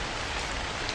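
Heavy rain pours steadily in the video game Yakin Jiken, a dense, loud, continuous hiss with no pauses, heard alone with no voices.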